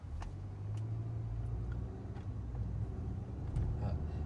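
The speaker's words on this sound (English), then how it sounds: "I'll throw it into sport mode and actually get on and get up to maybe a little over the speed limit." A 2012 Audi A4 in sport mode sounds from inside the cabin, where a steady low engine hum and road drone hold throughout and build slightly toward the end.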